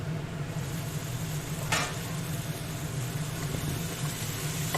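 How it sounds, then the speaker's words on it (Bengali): Mixed vegetables for a Bengali vegetarian panchmishali sabji fry covered over low heat, a steady soft sizzle with a low hum beneath and one brief scrape midway, no voices. "হালকা আঁচে কিছুক্ষণ ঢাকা দিয়ে দিয়ে এভাবে ভেজে নিতে হবে"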